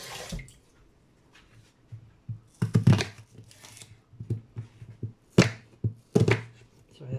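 Kitchen knife chopping food on a board, a few loud irregular clusters of sharp chops with quieter taps and clatter between them, close up.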